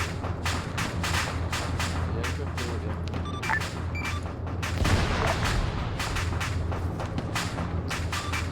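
Video game battle with dense gunfire aimed at a tank: rapid cracking shots and thuds repeat steadily over a low rumble, with occasional muffled voices mixed in.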